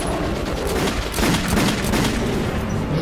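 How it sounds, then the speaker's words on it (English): Gunfire in the video game Metro 2033, a rapid, dense barrage of shots and booms rattling on for about three seconds, loud and close, with no voices. "Please start shooting."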